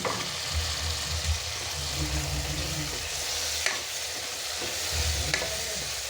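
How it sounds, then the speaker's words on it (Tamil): Ginger and garlic frying for biryani, a steady close sizzle with occasional stirring clinks, continuous and loud with no talk. "இப்போ இஞ்சி பூண்டு நல்லா வதங்கிடுச்சு"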